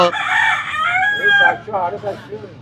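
A rooster crows loudly and close by at a village market in Bangladesh, one long drawn-out call, followed by people talking nearby.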